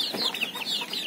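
Labuyo junglefowl chickens of the Talisayin type cluck and chatter steadily at feeding time on a rural farm, several birds calling close by in overlapping bursts with no talk.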